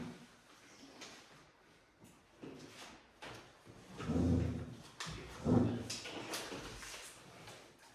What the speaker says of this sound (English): I heard the door, I thought someone was coming in.